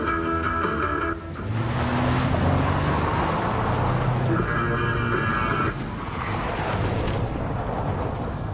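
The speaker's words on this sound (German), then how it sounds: "Ja, anscheinend kann Chloe Auto fahren" A car in the video game Life is Strange: Before the Storm drives steadily, its engine a loud, continuous rumble with road noise and faint tyre sounds, swelling as it accelerates and staying constant for several seconds without talk.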